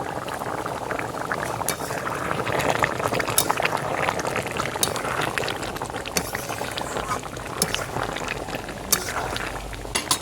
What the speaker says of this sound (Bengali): কি সুন্দর ফুটছে